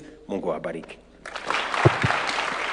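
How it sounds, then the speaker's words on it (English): Applause for the President at a State House breakfast with the FKF Premier League champions, a room of clapping that swells in after a man's short spoken line and continues steadily. "A round of applause for His Excellency one more time."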